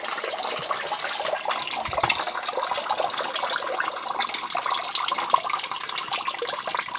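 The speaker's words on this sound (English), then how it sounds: "Let it drain a little bit." Water drains out of a water softener tank during a resin replacement, a continuous, close trickling and gurgling wash with a small knock near the start.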